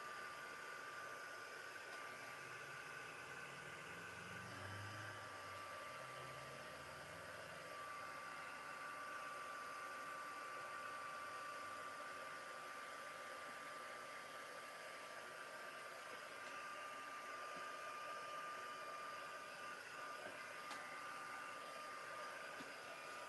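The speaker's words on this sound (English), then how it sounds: "if we turn the heat tool on. So just come in and give it a quick dry." Heat tool blowing steadily to dry a mixed media artwork, a continuous close whooshing airflow with a faint tonal whine running through the whole stretch, no voices over it.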